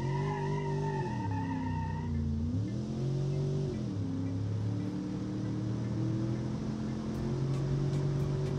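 A car in the BeamNG driving game takes a chicane, its engine droning loudly and steadily, the pitch dipping and rising as it brakes and accelerates, with brief tire squeal early on and no talking.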